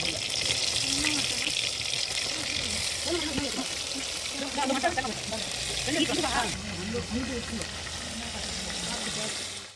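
Marinated chicken fries in hot oil in a pan over a wood-fired stove while coconut chicken biryani is made. A constant crackling sizzle runs throughout, with a voice talking over it.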